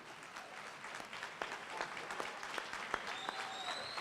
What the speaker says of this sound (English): Rise to your feet and give him a round of applause as he comes to the stage